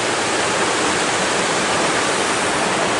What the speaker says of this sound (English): And that is the Sacramento River before it flows into Lake Siskiyou.